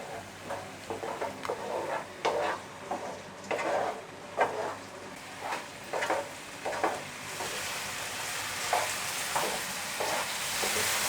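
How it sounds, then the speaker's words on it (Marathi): Ginger garlic paste sizzles and fries in a pan with tomato and onion as it is stirred, making steady frying noise with repeated scraping strokes close by. "यामध्ये आपण आलं लसणाची पेस्ट आहे ना ती घालूया. ही सुद्धा आपल्याला ना 2 मिनिटं परतून घ्यायचे आहे."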